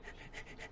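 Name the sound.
voice imitating panting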